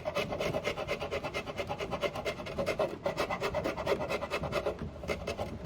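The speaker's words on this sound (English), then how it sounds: "So I'm just going to take my scraper and get that off." A metal scraper rasps leftover paint off a wooden furniture piece in quick, steady back-and-forth strokes, close and continuous with no talking.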